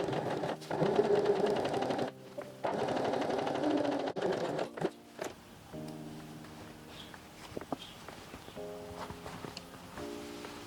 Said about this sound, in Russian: Теперь я отмечаю середину термостержнем и делаю строчку здесь